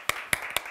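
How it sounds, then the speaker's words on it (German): Applause from a Lutheran church congregation in Chemnitz for its livestream helpers comes through as three sharp, evenly spaced claps within under a second, close and fairly quiet, with no talk. "Applaus für euch."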